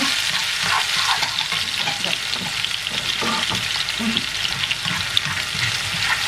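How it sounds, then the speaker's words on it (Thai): Eggs frying in a pan, a loud continuous crackling sizzle with spitting pops throughout, no talking. "นี่เราทอดไข่ ไข่ดาวไปเราเลย"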